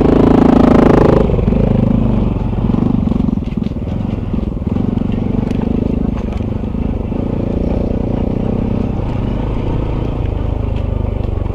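Honda CT125 motorcycle engine revving and pulling away on a muddy trail, a loud steady engine drone with clatter, close and continuous for the whole stretch.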